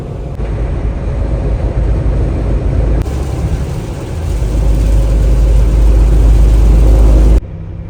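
A truck cruises on a highway through heavy traffic in light rain, its engine making a steady, loud low-pitched rumble and road roar that grows heavier partway through, with no voices.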